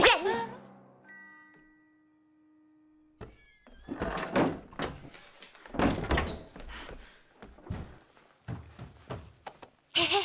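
A door opening in an animated French monster-hunter film, with a low creak and ringing tone at first, then a burst of clattering, busy noise that fills the rest of the scene.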